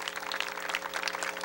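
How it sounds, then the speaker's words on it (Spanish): Scattered clapping from an audience at an outdoor bomba performance in Lajas, Puerto Rico, short and moderately quiet, with a steady low hum beneath it. "Les voy a pedir un aplauso para ellos también"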